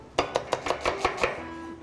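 A knife chops onions into half-moon slices on a board, giving seven quick, evenly spaced, crisp strikes close up, followed by a short pause.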